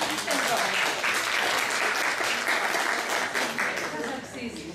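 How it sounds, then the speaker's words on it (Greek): Audience clapping warmly at a company launch presentation in Naousa, dense continuous applause with some voices mixed in, easing off slightly at the end. "με ένα πολύ ζεστό και δυνατό χειροκρότημα"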